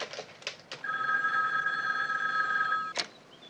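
Telephone bell ringing in a TV crime drama, a continuous electronic trill lasting a couple of seconds, fairly faint, with brief knocks and clicks before and after it.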